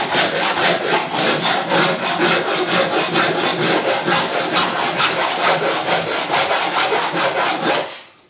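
A hand rasp is pushed over wood while shaping parts for a small boat, giving loud, close, rhythmic scraping strokes at an even steady pace for about eight seconds before stopping.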